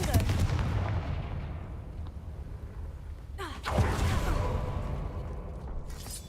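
Confringo fire spell from the Hogwarts Legacy video game, a sharp explosive blast with a whooshing burst near the middle, loud and close over a steady rumbling game background.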